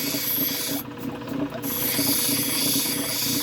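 Soft serpentinite stone being rasped to round off a bevel, a steady continuous filing scrape that runs close and fairly loud for the whole stretch with a short dip partway through.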